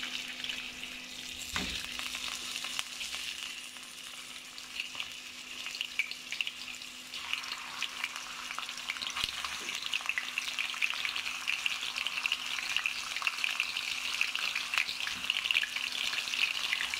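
Chicken pieces fry in hot oil in a pan, giving a steady, close sizzle with occasional stirring scrapes throughout.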